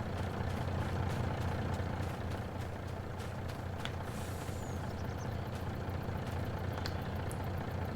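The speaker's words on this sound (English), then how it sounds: "I hear the truck." A truck engine idles with a steady low rumble in Farming Simulator 22, with a brief air-brake hiss and faint mechanical clicks over the constant drone.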